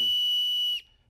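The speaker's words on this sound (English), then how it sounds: "the little whistle in a Captain Crunch box, if you blew on it just right, would produce a tone" A small toy whistle from a Cap'n Crunch cereal box sounds a loud, pure 2600 hertz tone, held steady for most of a second before cutting off abruptly.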